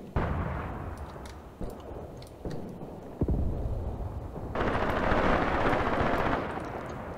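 Machine gun fire rattles through a battle in the war strategy video game Graviteam Tactics, with dense overlapping bursts and heavier booms that swell louder toward the end, no talking.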